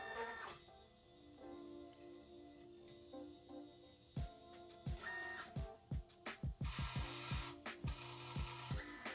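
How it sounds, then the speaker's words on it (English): A Curio 2 cutting machine running its auto height adjustment before cutting vellum: a motor whirs steadily, then a rapid series of sharp mechanical clicks and taps builds up, close and quiet. "The machine goes through and does the auto height adjustment. Then it adjusts the blade to the right depth, and then it will start cutting."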